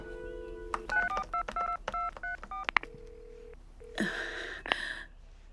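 Telephone keypad tones ring out as a number is dialed, a quick run of distinct DTMF beeps in an uneven rhythm, followed by a steady dial tone and a burst of ringing or line noise at the end.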